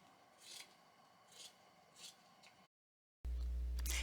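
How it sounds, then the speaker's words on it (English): Scissors snip through quilt fabric in three crisp, evenly spaced cuts, close and fairly quiet, followed by a brief silence and then a steady loud hum. "Oh, these scissors are just a dream."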